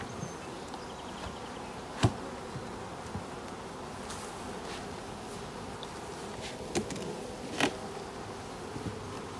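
Honey bees buzz steadily around hives in a beeyard during swarm season, a faint, continuous hum with a few individual bees zipping close by.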